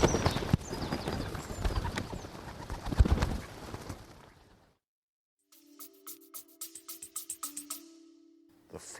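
Pigeons cooing at the Flamingo Pond on High Ash Farm, a short series of soft, rhythmic coos heard after a stretch of noisy outdoor rustling and a brief silence.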